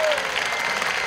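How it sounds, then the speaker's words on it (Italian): A large crowd of pilgrims applauds the Pope at the Helvia Recina venue, a dense, continuous wash of clapping that stays steady and loud through the short moment. "Sente il Santo Padre l'applauso."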